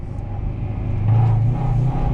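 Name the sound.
1995 Acura Integra GSR engine revving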